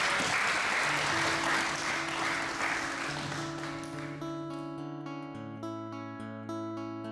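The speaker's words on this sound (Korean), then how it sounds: "서로에게 보내는 힘찬 박수로 첫날의 순례가 마무리되고" Pilgrims clapping for one another at the close of the first day of a Buddhist pilgrimage, a burst of applause that fades out as sustained music tones take over.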